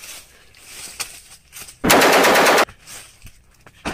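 Automatic gunfire from a shooting video game, one loud sustained burst of about a second rising from quiet background, with a few faint isolated pops around it.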